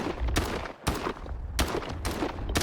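Shotgun fire in the game STALKER 2, four loud booming blasts roughly three-quarters of a second apart, each with a rumbling tail that merges into the next.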